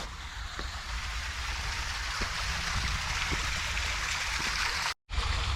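A loud, aggressive stream rushes steadily in nature, broadband water roar filling the scene with no voices, briefly cut by a short dropout near the end.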